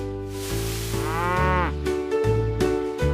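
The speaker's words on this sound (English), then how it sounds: "It's another cow friend." A cartoon cow lets out a long, wavering moo over a bright, bouncy children's song with steady accompaniment.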